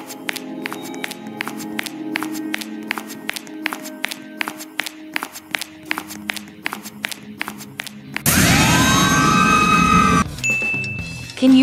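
Siren Cop, a monster from a Roblox game, lets out a loud, wailing siren burst for about two seconds. It cuts in abruptly after a stretch of rhythmic clicking and ticking beats.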